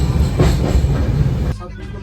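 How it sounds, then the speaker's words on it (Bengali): A passenger train runs into Gour Malda station with a loud, steady rolling rumble and rail noise that drops away abruptly near the end. "এবার ট্রেন ঢুকে পড়েছে গৌড় মালদা।"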